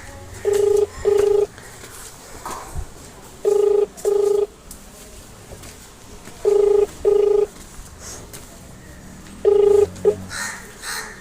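Phone keypad dialing tones on a recorded call sound as paired electronic beeps, loud and clean, in four evenly spaced double bursts over a low background murmur.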